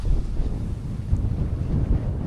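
Strong wind buffeting the microphone on a rocky stretch of coast in the Scottish Highlands, a steady low roar with gusty swells and no voices.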